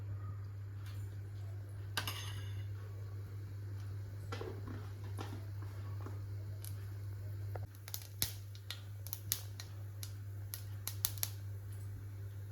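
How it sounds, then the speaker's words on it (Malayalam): Mustard seeds sputter in hot coconut oil in a pan, giving scattered sharp pops and crackles over a steady low hum, growing busier toward the end. "കടുകിട്ട് പൊട്ടിക്കും"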